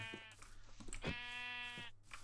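Minecraft sheep bleating in-game, two drawn-out wavering bleats with a short one between, close and clear over a low background hum.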